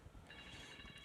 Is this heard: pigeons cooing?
no